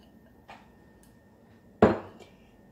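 Penne pasta with cheese stirred in a pan, heard as a couple of sparse utensil clinks and one sharp, close knock of metal against the pan in a quiet kitchen.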